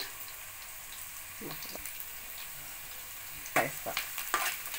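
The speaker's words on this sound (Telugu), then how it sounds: "ఉల్లిపాయలు వేగినట్టున్నాయి" Chopped onions fry quietly in a pan for a South Indian tamarind stew, a faint sizzle with a few louder stirring scrapes and clinks near the end, no talking.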